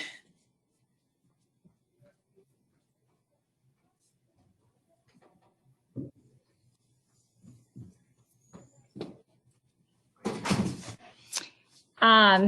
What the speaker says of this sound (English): I'm just going to shut my door.